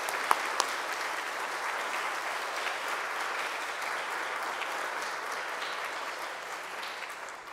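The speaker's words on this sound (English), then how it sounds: "Let's give her a round of applause." An audience at a conservation lecture gives a full, sustained round of applause that holds steady throughout, dense clapping from a crowd in a hall with no talk over it.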